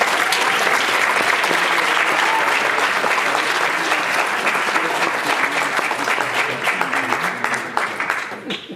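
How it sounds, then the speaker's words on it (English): Audience applause at a graduation ceremony, a dense sustained wash of many hands clapping loudly for parents and family, holding steady throughout before thinning slightly at the very end. "So please give all your parents, brothers, sisters, grandparents a big round of applause."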